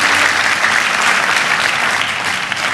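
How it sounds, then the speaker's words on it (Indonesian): A church congregation applauding for Jesus, dense and loud continuous clapping from a large crowd throughout, steady with no pauses. "Boleh tepuk tangannya yang paling meriah buat Yesus Tuhan kita."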